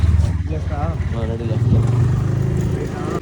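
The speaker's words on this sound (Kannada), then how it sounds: "ಗಾಡಿ ಸೌಂಡ್ ಮಸ್ತ್ ಐತಿ" A rented scooter's engine runs steadily at close range on a sunny outing around Udupi, a low continuous hum carrying under overlapping talk from several people.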